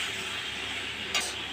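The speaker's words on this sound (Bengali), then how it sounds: "এবার এটাকে কষে নিচ্ছে" Food being sautéed in a pan while stirred, a steady close sizzle with a brief scrape of a utensil near the end, no voices.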